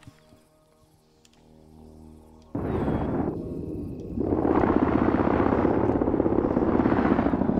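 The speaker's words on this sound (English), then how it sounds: "I think Romeo's in the chopper" A helicopter in a military video game, quiet at first then a sudden loud rotor roar that swells further, thudding continuously and close.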